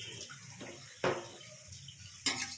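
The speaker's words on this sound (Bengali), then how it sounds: "একটু এটা ধুয়ে জল দিয়ে দেবো।" Water splashes and runs in two brief, faint bursts over quiet kitchen background while raw papaya is rinsed during chutney preparation.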